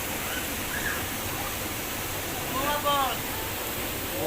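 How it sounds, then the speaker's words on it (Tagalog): Bunga Falls waterfall in Nagcarlan pours as a steady, broad rush that holds for the whole stretch. A few brief voices rise faintly above it. "Bunga Falls."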